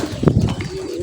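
Pigeons coo close by, near their coop where they feed alongside chickens, with a short burst of low throaty calls.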